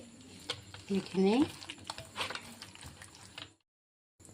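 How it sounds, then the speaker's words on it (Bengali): Gram flour batter is stirred in a bowl for egg chops, a close wet scraping and sloshing in short irregular strokes with a brief voice partway through, ending in silence. "বেসনটা গুলে নিই। বেসনটা গুলে পরে এখানে দিতে লাগবে।"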